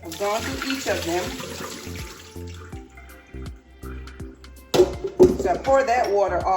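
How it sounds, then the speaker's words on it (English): Water poured off cut yams into a sink, splashing and trickling in uneven bursts with clinks and handling noises, growing louder near the end; a person talks over parts of it. "So I pour that water off"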